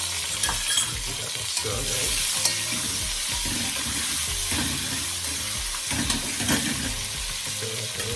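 Scallions fry in a pan with a steady sizzle and repeated stirring scrapes. Someone briefly speaks over the cooking at the start.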